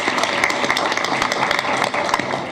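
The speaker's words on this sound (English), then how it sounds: "So a great round of applause." Applause fills a school board meeting: a dense, steady wash of many hands clapping across the room, fairly loud and sustained throughout with no talking over it.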